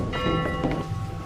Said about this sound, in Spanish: la campana toca a las 6.